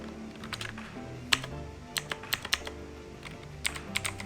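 Keys clacking on a computer keyboard while a text layer is typed in Adobe After Effects, a handful of sharp, close taps in short irregular bursts over a low steady background hum.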